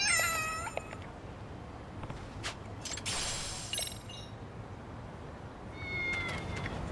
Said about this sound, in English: I think I've already talked to this cat.